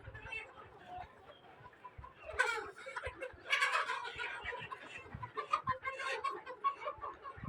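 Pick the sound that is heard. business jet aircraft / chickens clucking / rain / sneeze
chickens clucking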